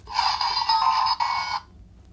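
A Kamen Rider Fourze switch toy plays its attack effect, a bright buzzing electronic ringing tone lasting about a second and a half with a brief dip midway, close and loud, then cutting off to quiet.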